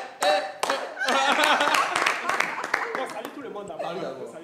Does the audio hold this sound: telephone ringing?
no